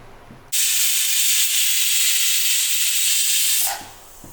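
A pressure cooker holding moringa leaf soup lets out one loud, sustained steam hiss. It starts abruptly, holds strong for about three seconds, then tapers off, with faint kitchen sounds before and after.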